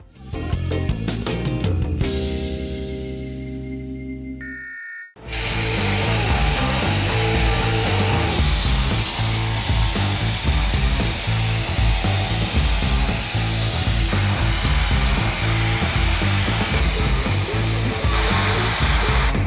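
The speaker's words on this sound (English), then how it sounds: "But I gotta sand in this crevice down here, so I pretty much have no choice" A DA sander works into a crevice on a C10 truck body. A brief whirring run winds down and pauses, then the sander starts again with a loud, continuous, gritty roar that holds steady to the end.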